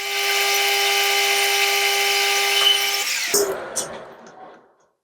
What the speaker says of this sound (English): we're going to put a 6mm hole through that